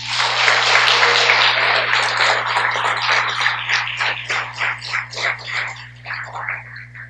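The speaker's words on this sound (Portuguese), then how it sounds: "Dê um aplauso a Jesus então" A church congregation at a Portuguese-language worship service claps loudly. The applause starts as a dense wash, then breaks into rhythmic, pulsing claps that gradually soften.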